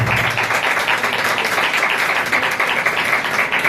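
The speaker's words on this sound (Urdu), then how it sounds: "زوردار تالی ہے خدا کے نام" A church congregation claps loudly and steadily in praise during a Passover sermon, a dense continuous burst of many hands close by with no voices over it.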